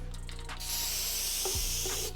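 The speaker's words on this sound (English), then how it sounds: "So to do the ends, we spray glue" Spray glue hisses steadily from a can onto a homemade ported car subwoofer box, a continuous close, loud spray lasting about two seconds with a brief shift partway through.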